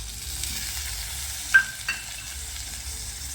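Soaked lentils are fried and stirred in a hot pan with sautéed onion and curry leaves, a constant close sizzle broken by two sharp spoon scrapes against the pan.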